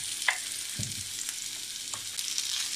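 Onion frying in a generous splash of oil in a pan used for burgers: a soft continuous sizzle close by, with a few brief stirring taps and scrapes, no voices.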